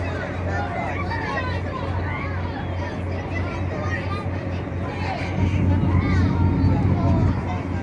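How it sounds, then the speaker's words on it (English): Crowd of children playing at a daycare, a steady wash of overlapping chatter and distant shouts that swells louder toward the end, with a low continuous hum underneath. "Probably hear all the kids, the daycare."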